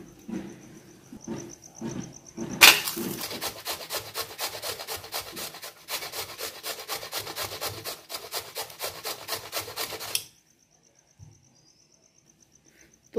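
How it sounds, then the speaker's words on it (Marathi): Raw Totapuri mango being grated on a large kitchen grater: a fast, steady run of close, rasping scrapes lasting several seconds, then stopping abruptly into near silence. "मोठ्या किसणीने आंबा किसा।"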